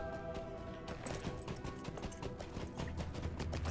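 A goat mount in Lord of the Rings Online trots along with a steady, rapid clip-clop of hoofsteps, fairly quiet and continuous, mixed with soft background game sound.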